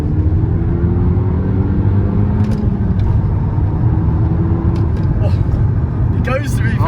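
Audi TT petrol engine pulling away and accelerating on the road, a steady loud rumble from inside the car that continues throughout, with faint cabin noises near the end.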